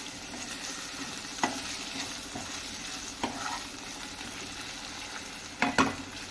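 Tomatoes frying in oil in a pan for puri bhaji, giving a steady close sizzle with a few brief scraping knocks from stirring, and no talking.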